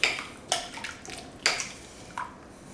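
A spoon stirs salt- and pepper-seasoned potato soup in a pot, giving a few sparse, light clinks and scrapes against the pot's side at uneven intervals in a quiet kitchen.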